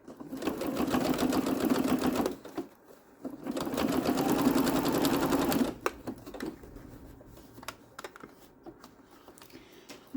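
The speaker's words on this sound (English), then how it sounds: "now I'm going to use a serpentine stitch to go around" Sewing machine stitching a serpentine stitch on a small scrap-fabric key fob, two sustained whirring runs of rapid needle chatter separated by a short pause, followed by quieter handling clicks.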